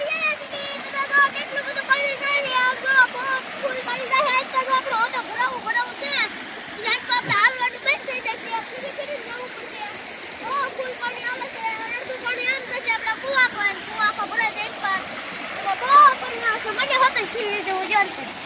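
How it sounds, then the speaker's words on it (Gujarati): Narmada canal water rushing steadily in a broad, constant roar, with children and adults talking over it throughout. "કેટલું બધું પાણી આવે છે"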